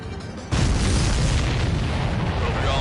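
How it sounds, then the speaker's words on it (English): A missile blast hits a supply ship in the combat flight game Ace Combat 7, landing as a sudden loud boom that settles into a sustained heavy roar of fiery rumble. "The missile hit the supply ship dead on."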